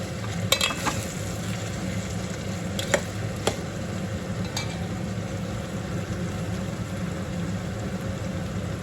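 Brinjal fry cooking in a pan with oil, a steady, moderately loud hiss of frying with a few sharp stirring clicks early on, alongside a low constant background hum, no speech.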